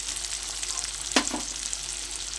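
Ground turmeric, cumin, coriander, chili powder, salt and green chili fry in hot oil in a pan for a curry of eggs and potatoes, a soft continuous sizzle with one sharp scrape of a spoon stirring.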